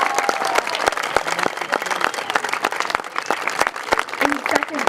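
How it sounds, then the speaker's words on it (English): An awards audience applauds the third-place team from a 4-H club at a rocketry contest. The clapping is loud and steady for several seconds, with distinct individual claps over the crowd and a little voice in the background. "Can we hear a big round of applause for them,"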